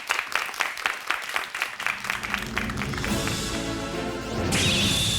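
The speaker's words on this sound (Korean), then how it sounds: "박수 부탁드립니다" On a KBS storytelling stage show, a burst of audience clapping with distinct, rhythmic hand claps lasts about two seconds, then gives way to loud entrance music that swells and carries on alone.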